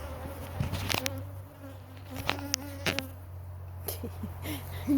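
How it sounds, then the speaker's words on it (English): Honey bees, mostly workers, buzz continuously close by at a beehive, their drone wavering in pitch, with occasional light taps and clicks mixed in. "most of these bees that are out are worker bees"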